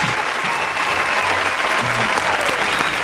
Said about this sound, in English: give them the applause